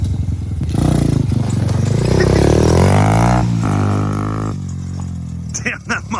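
A Yamaha TTR 90 converted into a three-wheeler, fitted with a Predator 212 engine and a loose muffler, runs and revs steadily up close, its harmonic drone rising and falling under loud talking.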